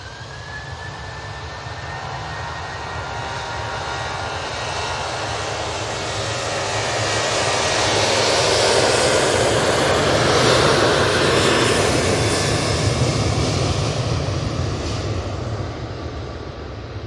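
Ryanair jet from Rome on final approach to Manchester Airport. Its engine roar builds steadily from a distance, peaks loud overhead and then slowly fades.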